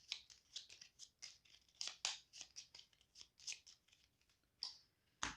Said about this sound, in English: so I'm going to need to shuffle again